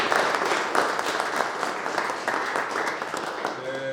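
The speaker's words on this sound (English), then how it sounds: "Let's give a round of applause." A crowd claps steadily at an award ceremony during a Customer Services Week celebration, the applause dense and sustained, then fading slightly at the end.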